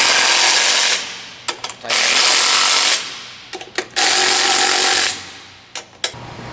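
A power tool tightens bolts on a tension idler in loud, close bursts of whirring, each about a second or two long, separated by short pauses and clacking pulses.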